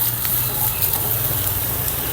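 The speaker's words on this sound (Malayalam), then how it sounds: "ഇഞ്ചി വെളുത്തുള്ളി മുളകൊക്കെ ഉണ്ടല്ലോ അതും കൂടി ഇതിലേക്കൊന്ന് ചേർത്ത് കൊടുക്കുന്നുണ്ട് എന്നിട്ടൊരു മീഡിയം ഫ്ലെയിമിലിട്ടത് ഇതൊന്ന് ഒന്ന് മൂപ്പിച്ചെടുക്കണം" Crushed ginger, garlic and chili sizzle in a pan over a medium flame, a dense, steady frying hiss heard up close with no talking.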